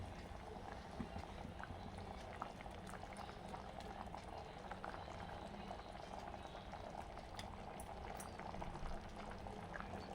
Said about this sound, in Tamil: ஒரு ரெண்டு நிமிஷம் நல்லா கொதி வரட்டும்